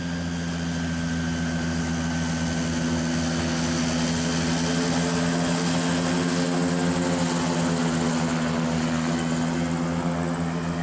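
The Raptor prototype, a homebuilt propeller aircraft, taxis on a runway, its engine droning steadily and loudly up close with a constant tonal hum throughout, and no talk.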